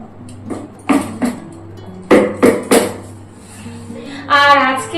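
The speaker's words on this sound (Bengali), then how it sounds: "আজকে বটিতেই কাটছি।" A boti blade cuts food in a home kitchen with a series of sharp, close chopping knocks in uneven bursts, several strokes close together, then a brief harmonic sound near the end.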